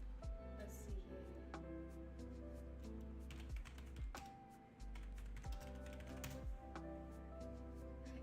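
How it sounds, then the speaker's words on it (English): Light typing on a computer keyboard, scattered soft keystrokes under steady background music with sustained tones throughout. "Look, I'm not even typing very hard on my keyboard."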